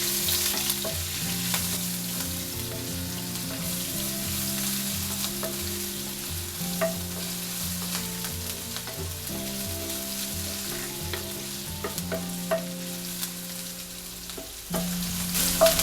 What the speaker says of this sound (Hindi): तेल गरम हो गया है। 1 छोटी चम्मच जीरा डालेंगे। 1 बड़ा चम्मच बारीक कटा हुआ अदरक, 2 हरी मिर्च बारीक कटी हुई।